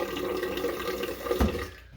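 A bathroom tap runs in a steady, rushing stream during a wet shave, close and unbroken, with a brief splashier surge near the end.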